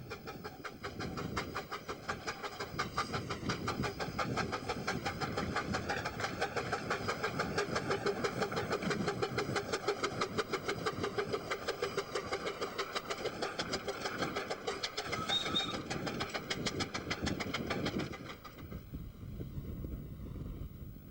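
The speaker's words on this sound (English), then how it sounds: "Red Dragon and the Hayward four-wheel brake van make a strange pairing as they run parallel with Dr. Sin." Red Dragon, a miniature railway steam locomotive, runs with a Hayward four-wheel brake van alongside another engine, producing a steady, continuous rumble and rapid rhythmic chuffing that carries for about eighteen seconds before dropping away, with wind noise on the microphone.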